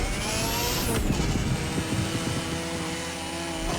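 A high, strained engine whine from a racing game holds steady, with a sharp pitch drop near the start and a constant harsh drone throughout.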